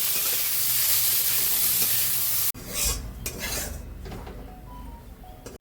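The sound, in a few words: frying ash gourd peel in hot oil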